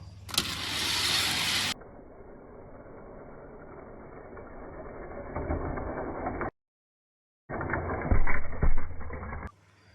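Die-cast toy cars, a Corvette Grand Sport Roadster and a Mercedes AMG GT3, race down a speedway track with a steady rolling rumble that cuts out briefly, then resumes with clattering bumps before ending.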